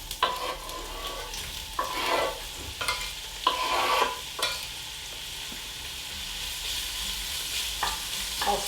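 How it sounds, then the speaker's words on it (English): Diced onion sautéing in hot fat in a pan for braised kale, a steady close sizzle with several bursts of stirring scrapes spread through the first half, then a quieter, even frying hiss. "I'll saute that until the onion is translucent"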